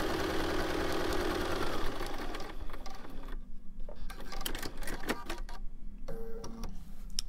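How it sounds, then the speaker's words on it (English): A sewing machine stitches across fabric book pages: a close, steady mechanical whir, busy at first, then continuing in shorter bursts with brief pauses and small clicks. "I'm gonna just sew across the top"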